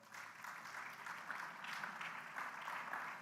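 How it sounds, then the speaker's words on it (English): A campus audience at an official opening ceremony applauds students with sustained, even clapping, distant and fairly faint but continuous throughout. "A round of applause for them."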